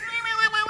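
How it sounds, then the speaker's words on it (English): A cat meows close by from beneath a seat on some stairs, one short, clear tonal cry with strong harmonics, heard alone. "We got a cat under a seat."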